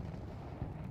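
A single heavy grenade blast in Counter-Strike: Global Offensive, a brief, dull, booming thump that fills the whole second, with no voices over it.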